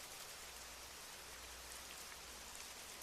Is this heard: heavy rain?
yes